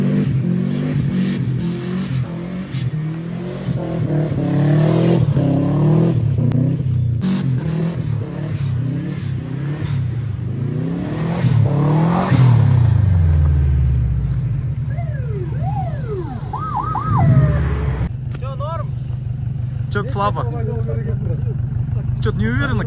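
A car with a manual transmission pulls away and revs, its engine note rising and falling through several gear changes over a continuous rumble, with people talking over it.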